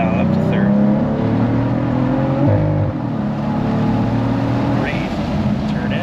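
A Cadillac CT4-V Blackwing drives on the Thunderhill West track, its engine droning loudly from inside the cabin, dipping briefly with a gear change midway before pulling on at a steady high pitch.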